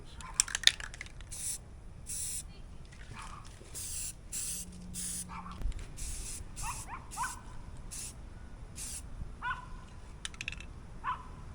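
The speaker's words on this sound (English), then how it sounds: "This fucking dog sucks. Just barks in the background of all my goddamn videos." A dog barks, yips and whimpers in the background of a workshop in short bursts, interspersed with long hissing blasts of spray paint nearby.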